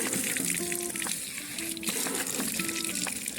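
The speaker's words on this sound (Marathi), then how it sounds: "हे बघा तोंड धुवून घेतो." Water runs steadily and close as someone washes their face at a concrete work site, a continuous splashing flow with no talk over it.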